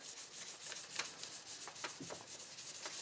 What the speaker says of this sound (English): I've done sanding, it's cleaning up now with micro mesh.